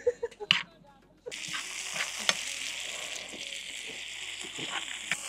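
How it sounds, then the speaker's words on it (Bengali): Onion and red pepper frying in a pan for a prawn jalfrezi cooked outdoors: a few sharp clatters, then a sudden loud steady sizzle that carries on with light stirring. "এনাফ বাজ হয়ে গেছে পেঁয়াজ আর রেড পেপার"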